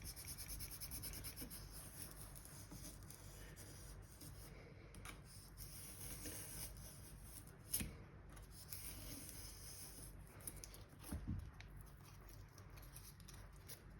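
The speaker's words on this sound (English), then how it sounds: "So I'll just start cutting some of this foam." Foam for a homemade taser, the same kind used for an RC Reaper build, cut down the middle, giving faint, steady scratchy rubbing and scraping with a few brief louder scrapes and no talk.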